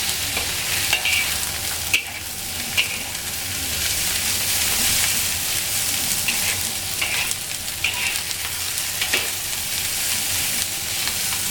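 Diced pork, dried mushrooms and dried shrimp sizzle steadily in a hot wok, with a loud constant frying hiss broken by periodic spatula scrapes and soft clanks.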